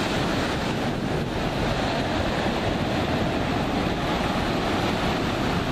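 Ocean waves wash continuously onto a California beach, a steady broadband roar of surf with wind buffeting the microphone throughout, loud and unbroken with no voices.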